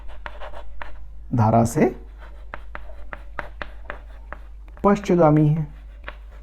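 Chalk or marker strokes on a board during a physics lesson, a series of short sharp scratches and taps at an uneven pace, close and fairly quiet, with someone speaking in between.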